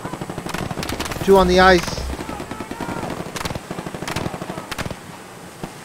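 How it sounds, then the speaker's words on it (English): Rapid machine-gun bursts in a PC video game aimed at a drone, with the firing louder and denser near the start and repeated shots continuing throughout while someone talks. "They're trying to shoot my drone."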